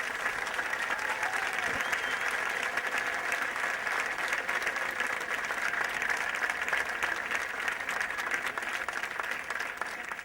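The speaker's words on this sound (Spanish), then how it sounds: "quiero que toda la plaza dé un aplauso grande a cocina" A large crowd filling a public square at an outdoor assembly gives sustained, dense applause that holds steady and loud throughout, with no talking over it.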